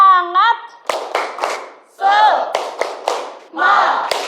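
A class of pupils does a rhythmic spirit clap in a classroom, several bursts of loud group clapping broken by shouted chants, a voice calling out before the first claps.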